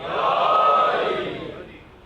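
A crowd at a night gathering for the 8th of Safar calls out the responsive slogan Naara-e-Haidari in unison, a loud swelling group shout that fades over about two seconds.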